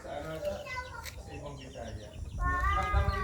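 Chicks on a rural farm giving a few high thin peeps amid clucking fowl, fairly close, with people talking over them.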